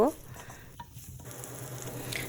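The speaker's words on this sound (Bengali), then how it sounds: "আমি পেঁয়াজ কুচি দিলাম সাথে রসুন কুচি বেশি করে দিলাম তারপর একটু নেড়ে ভাজা ভাজা করব" Chopped onion and plenty of garlic stir-fry in hot oil for Bangladeshi jute leaf greens, a soft crackling sizzle with light stirring scrapes and a faint pan clink, fairly quiet throughout.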